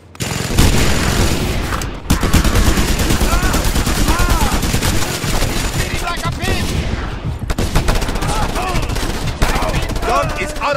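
A mounted gun in the video game Just Cause 2 fires long, rapid, loud bursts close by, with brief pauses and booming impacts, while voices shout over the gunfire.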